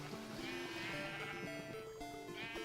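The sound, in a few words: sheared sheep bleating in the video game Minecraft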